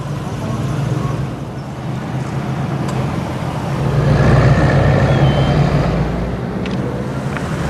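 Four-wheel drive vehicle in low range crawling over a huge speed bump in Dubai, a steady low engine drone that swells midway as it climbs, with faint talk.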